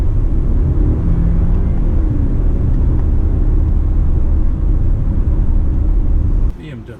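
A 2019 BMW X3 sDrive30i with a 4-cylinder turbo and 8-speed automatic drives along, its low, steady engine and road rumble droning loudly in the cabin before dropping away near the end, with speech over it.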